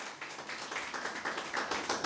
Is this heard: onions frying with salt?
no